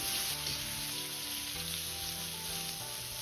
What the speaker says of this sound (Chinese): 油热后下入茄子翻炒